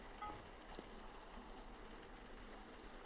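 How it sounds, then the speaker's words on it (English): Soft, steady rain in the video game Vintage Story, a faint even hiss with scattered light drop patter throughout. "I love the way the rain sounds right now."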